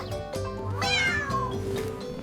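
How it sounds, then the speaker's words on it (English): A cat meows over a steady backing of children's song music, one drawn-out rising and falling call standing out clearly near the middle, with no talking. "Cat,"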